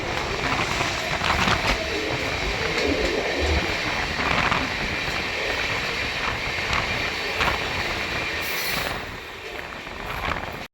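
A train rumbles steadily past at close range near a crossing on the Prayagraj–Delhi route, with continuous clattering wheels and mechanical rattling for about ten seconds before easing slightly near the end.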